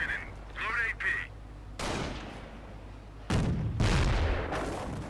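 Sherman tank cannon fire in the video game Company of Heroes, two sharp loud blasts with rumbling tails about a second and a half apart, following brief game radio chatter.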